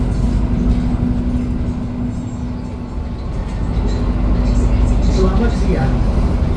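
Argo Anjasmoro passenger train running on rails at speed, a steady loud low rumble and rattle with a constant hum, heard from inside the carriage, with faint voices underneath.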